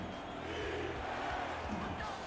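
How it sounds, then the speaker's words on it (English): Stadium crowd in Las Vegas at Silver State Stadium during a football game, a dense continuous roar of many voices filling the space, steady and fairly loud throughout. "Crowd's getting loud and on their feet here in Vegas at Silver State Stadium."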